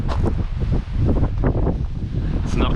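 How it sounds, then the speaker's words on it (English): Strong wind buffets the microphone on an alpine mountain trail on the Tongariro Alpine Crossing in New Zealand, a loud continuous roar with gusting surges throughout. "It is quite windy and it's not gonna get better up there."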